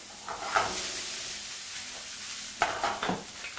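Onions go into hot oil in a saute pan and sizzle softly, with a spoon stirring and a couple of sharper clinks and scrapes against the pan. Faint and close.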